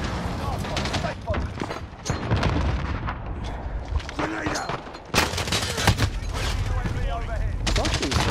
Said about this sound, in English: I'm trying to chuck grenades down.